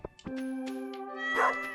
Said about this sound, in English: Say hi to the kitty cats.